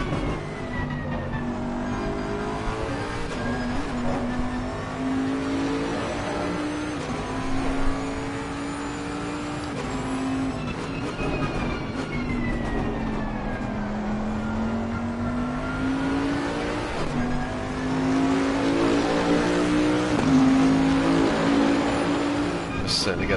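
GT3 race cars in a racing video game at Mount Panorama, engines screaming up and down through gear changes as they pass the pit wall, loud and sustained, with commentary talk over the top.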